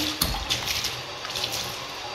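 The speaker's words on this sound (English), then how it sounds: "now we are gonna rinse with plain water." Plain rinse water running and splashing during a move-out apartment cleaning, a steady close wash of water noise with small clatters, no talking.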